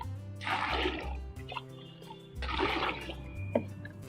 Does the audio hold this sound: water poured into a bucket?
yes